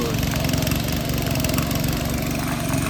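A ploughing machine's engine runs steadily in a rain-soaked field, a loud, close, continuous mechanical drone with a throbbing low rumble and no pauses.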